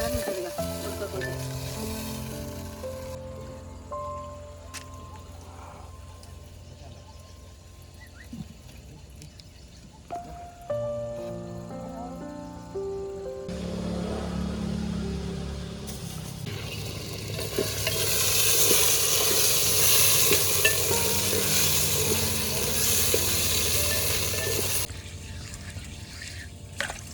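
Brinjal pieces fry in oil in a pan, a steady bright sizzle that swells louder midway and holds, with occasional stirring scrapes and soft background tones.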